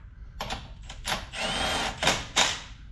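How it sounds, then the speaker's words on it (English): A small impact wrench snugs shouldered lug nuts on a Toyota wheel, giving several short, close bursts of rattling hammering separated by brief pauses. "we can come back and just snug them up with a small impact"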